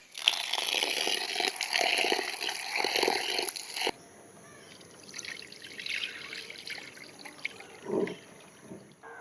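Soaked urad dal being rinsed with water: soft trickling and sloshing, fairly faint and close, louder at first, then quieter splashes.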